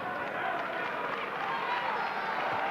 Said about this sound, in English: he gets an appreciative clap from the crowd